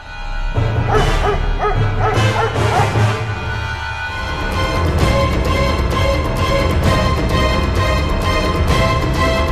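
A pack of dogs barks and yips on a vacant lot, a steady, fairly loud chorus of overlapping barks with whimpers mixed in throughout.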